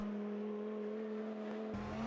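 Viper GTS-R GT1 race car in the sim racing game Automobilista 2, a steady close engine drone at constant pitch that rises slightly toward the end, with no talk.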